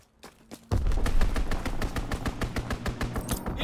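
Aircraft strafing-run gunfire in a WWII video game (The Resistance DLC): after a brief quiet start, a loud, sustained stream of rapid machine-gun shots over a deep rumbling bed continues to the end, with no voices.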